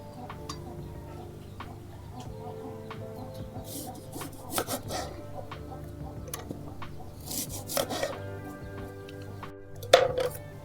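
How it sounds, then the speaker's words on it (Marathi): A knife chops onion and green chillies on a board in a home kitchen, making quiet, irregular wooden taps and scraping rubs that grow somewhat louder toward the end. "तर आता मी कांदा आणि हिरव्या मिरच्या कट करून घेते"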